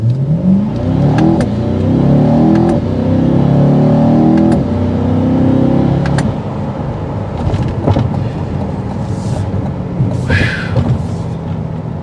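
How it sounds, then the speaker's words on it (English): A 2023 Chevrolet Corvette Stingray accelerates hard from a standstill at full throttle on a road, its engine note loud and rising through several gear changes before settling into a steadier cruising drone. "I'm going to stop in the middle of the road and give her full gas."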